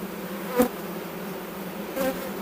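Honeybees buzz softly around a hive, a faint steady hum with a couple of brief louder passes as individual bees fly close.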